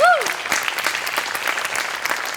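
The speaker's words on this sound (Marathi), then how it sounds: "गोस्वामींसाठी एकदा टाळ्या वाजवाव्यात" A studio audience at the Marathi comedy show Maharashtrachi Hasya Jatra applauds for Goswami. The clapping is loud and sustained throughout, opening with a brief rising tonal whoop.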